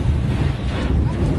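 Powerful China Coast Guard water cannon spray blasts against a vessel at sea, a loud, continuous rushing roar of water mixed with heavy wind buffeting.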